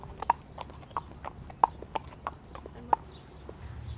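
Therapy horse hooves clip-clop at a therapeutic riding center on the East End, sharp, close, irregular knocks about eight times over a quiet background with no talking.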